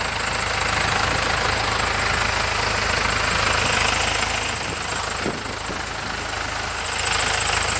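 A Cummins 4BT diesel engine in a Toyota 4x4 runs loud and close, with a dense, steady clattering rumble that dips a little partway through before rising again.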